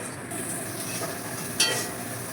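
Masala with red chili powder and green chilies sautéing in a pan, a steady close sizzle with stirring scrapes and one brief sharper clink, no talk.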